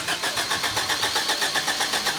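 A restored Toyota car engine turning over with a fast, even pulsing rhythm, close by and fairly loud.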